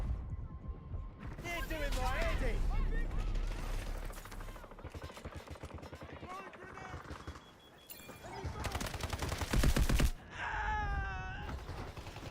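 Video game shooter gunfire crackles in bursts amid a busy mix of game sounds, with a player's voice talking over the action.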